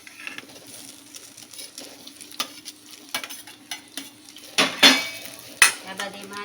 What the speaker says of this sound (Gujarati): હવે આપણે એમાં આ જે બટેટા લીધા છે એ એડ કરી દેવાના છે.